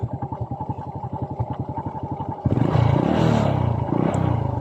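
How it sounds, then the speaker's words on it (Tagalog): Kawasaki Fury 125 motorcycle engine with its fuse removed, close by: a steady, rapid pulsing idle runs for a couple of seconds, then gives way to a louder, rougher burst of noise. "tumirik talaga ang kanyang motor"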